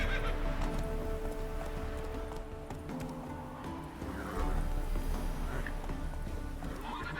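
Roach, the horse in The Witcher 3 video game, whinnies while hooves clip-clop steadily on a mountain path, loud and close over a constant game music and ambience bed.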